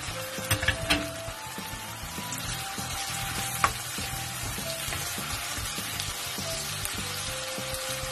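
Onions and fish sauce sautéing in a pan before clams are added, a steady close sizzle with light stirring and occasional small pops.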